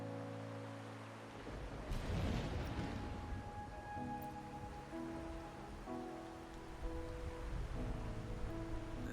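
Soft, steady rainfall patters quietly beneath gentle sustained musical tones in the video game Wuthering Waves, faint and continuous.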